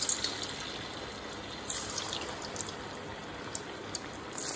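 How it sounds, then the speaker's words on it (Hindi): Paneer pieces fry in very hot oil, giving a continuous, even crackling sizzle with small pops throughout, close and moderately loud, with no talking. "अभी एक एक करके हम इसको फ्राई करेंगे।"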